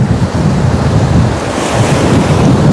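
Strong gusting wind buffets the microphone on Anapa beach while stormy sea surf roars steadily and loudly underneath, a dense continuous wash of noise with no voices.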